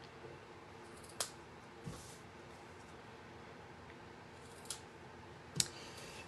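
Scissors snip ribbon tails on a handmade card in a few sharp, separate cuts spread over several seconds, close by and quiet against a soft background hiss.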